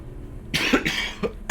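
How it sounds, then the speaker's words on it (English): A person coughs in two or three short harsh bursts close to the microphone after a brief quiet lead-in, with a throat-clearing quality and no talking. "is this gonna be the entire video where I'm just gonna be coughing?"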